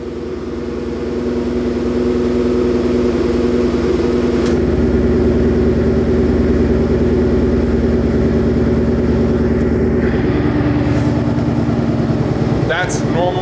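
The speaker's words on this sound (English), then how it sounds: "That's normal mode right now at high idle, still warming up." A 2018-2021 Ford Mustang GT V8 exhaust holds a high idle in normal mode while warming up, a loud, steady burbling drone with a short louder blip near the end.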